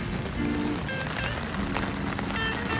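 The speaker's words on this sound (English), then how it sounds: "Downpour." Steady rain pours down in a heavy downpour on a gloomy day at a Tulsa cycling race weekend, a dense continuous hiss of drops on surfaces with a few faint background sounds.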